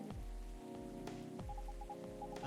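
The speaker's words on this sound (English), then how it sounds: "It's actually raining outside." Rain falls outside in a steady wash of drops striking surfaces, heard under a continuous musical background with rhythmic low thumps, no voices present.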